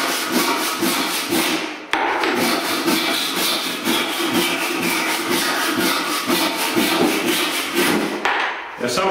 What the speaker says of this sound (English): we just cut it off out of the way. handsaw down the edge of each jam.